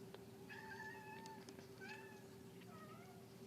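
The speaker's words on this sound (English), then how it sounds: "the cat is meowing loudly and pawing at the door because he wants to be let in there" A cat meowing loudly near a door, several drawn-out meows in a row, fairly close over a low steady hum, with faint thumps from pawing at the door.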